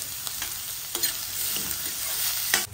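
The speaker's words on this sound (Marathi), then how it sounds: "कांदा, कांदा जरा गुलाबी होईपर्यंत भाजायचा आहे." Onion fries in a pan until pink for a Kolhapuri-style sandgyachi rassa bhaji, a steady close sizzle with a few sharp stirring scrapes and taps, heard alone without speech.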